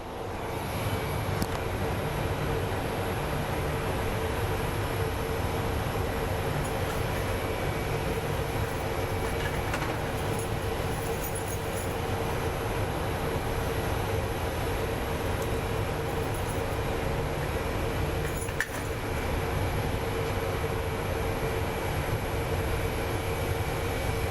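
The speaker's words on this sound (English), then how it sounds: "And here comes our United flight" A United Airlines airliner on approach to Phoenix Sky Harbor airport, a steady, broad jet-engine roar that holds constant throughout, moderately loud and with no voices.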